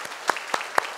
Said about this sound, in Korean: 큰 박수로 함께 축복하겠습니다.